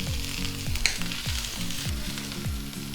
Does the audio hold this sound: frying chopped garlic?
yes